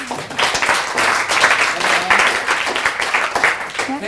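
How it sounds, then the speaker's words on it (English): An audience at an academic presentation applauds Lonneke, with steady, dense clapping that fills the room from start to finish. "we haven't applauded Lonneke"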